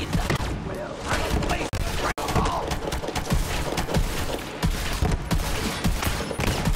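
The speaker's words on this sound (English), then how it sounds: "Oh, this shotgun is a wrecking machine." Rapid, loud shotgun blasts from a weapon in the Borderlands 3 video game, bursting in dense succession throughout amid combat noise.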